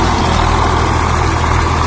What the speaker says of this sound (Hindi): गरज के साथ ट्रैक्टर चल रहा भाइयों।